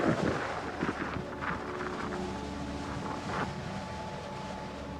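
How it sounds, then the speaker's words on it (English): Wind on the approach trail to Mount Washington, a steady roaring buffet against the microphone with gusty swells, loud and continuous with no voices. "You may not hear because of the wind."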